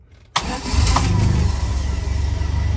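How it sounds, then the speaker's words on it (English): After a brief quiet moment, a 1971 Land Rover Lightweight engine cranks and fires abruptly, then settles into a loud, steady idle close by with a rough, pulsing rumble. "quick video of start up and idling on this Land Rover lightweight."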